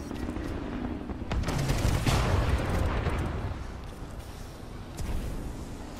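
Gunfire from a weapon in Titanfall 2 rattles in rapid bursts, building to a loud, dense volley around the middle before easing off, then a final short burst near the end.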